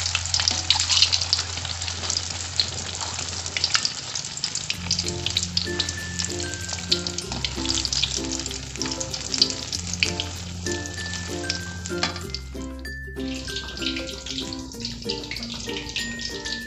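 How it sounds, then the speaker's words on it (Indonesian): An egg fries in very hot oil with a constant dense sizzle and crackle, while music with a steady bass line and melody plays over it throughout. "di sini saya akan menggoreng telurnya terlebih dahulu"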